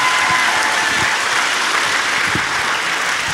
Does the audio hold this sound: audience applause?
yes